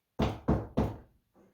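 Three sharp, loud knocks land on a surface in a room in quick, even succession, followed after a pause by a much fainter fourth tap.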